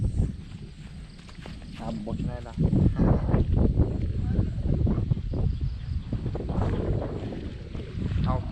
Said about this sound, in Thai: อยู่นาลมพัดอ่อนๆ